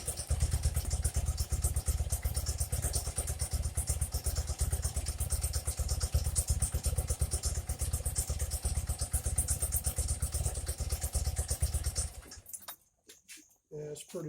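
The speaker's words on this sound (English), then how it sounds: "it's still idling a little high" A BMW R80RT airhead motorcycle engine with Bing carburetors idles slightly high and steadily with a rapid, uneven putter for about twelve seconds, then cuts down to scattered knocks and near quiet.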